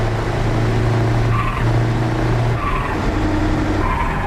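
A Scania truck in Euro Truck Simulator 2, driven with the exhaust brake shut, produces a steady low engine drone. The drone holds loud and continuous throughout, with a shifting mid-range whine above it.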